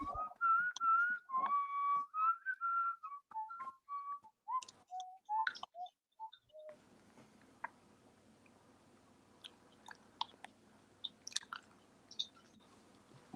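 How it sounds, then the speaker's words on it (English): A person whistles a short wavering tune of several rising and falling notes nearby, then it stops and leaves scattered small clicks and chewing-like sounds over a faint background. "who's whistling?"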